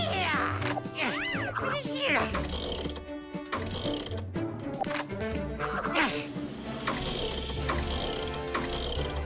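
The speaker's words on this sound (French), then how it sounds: "Mise en place d'un nouveau boulon bien boulonné." Cartoon sound effect of a bolt being tightened: a series of ratcheting, clanking mechanical clicks and gear whirs with bright musical accents, mixed with a speaking voice.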